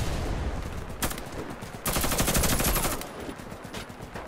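Gunfire in the shooter game Warface during a co-op match, a sniper firing on the squad. Sharp broadband shots land near the start, with a louder sustained burst of fire in the middle, over busy game noise.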